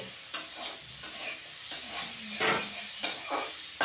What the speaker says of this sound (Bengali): এখন বন্ধুরা আমি এই শাক আর আলু বেগুনটা ভালো করে আবার কষিয়ে নেব